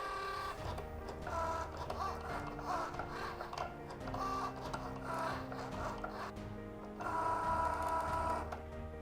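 A Cricut cutting machine works through vinyl with a continuous mechanical whir and rhythmic motor hum, rising and falling as the blade carriage moves back and forth.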